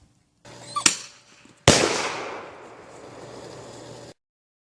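A bear banger fired from a shotgun through a cheap reusable adaptor: a sharp launch crack, then a louder, close blast a moment later that rolls off into a long fading rumble.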